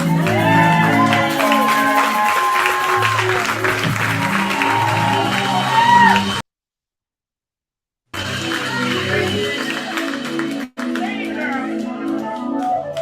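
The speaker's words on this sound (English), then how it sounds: "I need that applause again." Audience applause and cheering at a live music show at The Cutting Room in NYC, a loud sustained crowd roar over music, cut off by a silent gap midway before the clapping and cheers resume.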